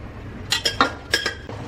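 Metal cooking pots and vessels clink and clatter in a few sharp, close knocks while mutton for an Ambur-style biryani is moved into a large pot.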